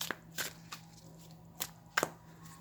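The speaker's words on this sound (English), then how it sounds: "And I like to shuffle it this way as well if I'm going to be doing reversals." Tarot cards shuffled by hand for a reversal-style mix, giving a few separate soft riffling bursts over a low steady hum, fairly quiet and with no talking.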